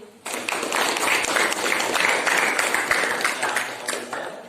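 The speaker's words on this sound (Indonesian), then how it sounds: "Tepuk tangan dulu" Classroom applause during an Islamic religious education teaching practice lesson, a sustained round of clapping from a group of students that begins suddenly and stays fairly even at moderate loudness.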